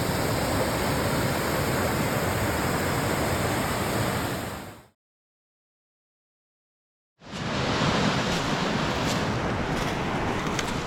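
A waterfall in a river gorge roars as a dense, continuous white rush, loud and close, cutting to silence for about two seconds before the same steady torrent resumes.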